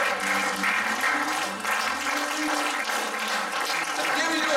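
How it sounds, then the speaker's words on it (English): A church congregation claps during prayer, a steady wash of many hands applauding together at a moderate level, with voices speaking underneath. "Give the Lord a hand clap and pray."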